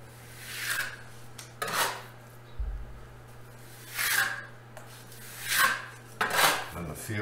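Japanese stainless steel trowel spreading lime plaster over dustcrete walls, working the edges: several separate scraping, rasping strokes of a metal blade across the wet surface, each about half a second, close and fairly loud, with no talking.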